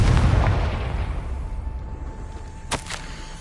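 A Confringo fire spell from the Hogwarts Legacy video game bursts with a loud, boomy explosion at the start, its rumble decaying over a few seconds before a sharp crackling pop near the end.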